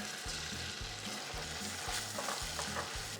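Onions fry in a pan until golden brown, giving a steady close sizzle with rhythmic bursts of stirring and scraping throughout, with no talking.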